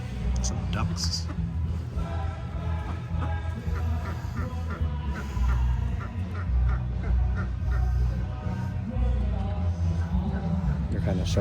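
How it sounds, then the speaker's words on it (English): Ducks quack repeatedly in short bursts among other farm fowl, moderately close, mixed with background chatter of people talking nearby and some honking calls. "some ducks."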